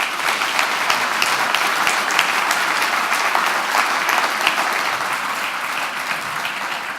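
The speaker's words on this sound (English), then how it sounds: "Would you please give them a round of applause?" Sustained applause from an audience at a university education forum, dense and even clapping that holds steady throughout, with no voices over it.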